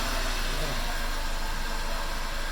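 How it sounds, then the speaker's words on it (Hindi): A Volkswagen Vento car engine idles close by with a steady, even drone and a constant hiss. No distinct start-up burst stands out. "अब मैं इंजन स्टार्ट करता हूँ।"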